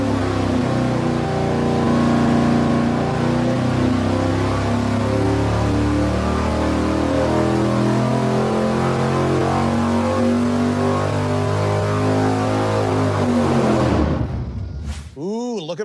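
Mopar muscle engine with stiff pushrods running on a dyno, a loud sustained roar that climbs steadily in pitch for about fourteen seconds, then cuts off and winds down quickly.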